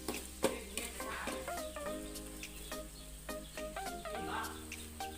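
Food is stirred together in a pan with a soft continuous scraping and light sizzle, punctuated by small clicks of the utensil. Insects chirp steadily in the background throughout.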